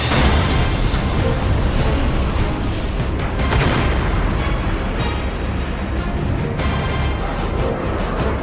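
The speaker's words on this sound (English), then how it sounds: "Three huge explosions light up the sky." Loud, sustained rumbling roar of heavy explosions from F-15 missile strikes during Desert Storm, dense and unbroken, filling the whole stretch with booming low-end thunder.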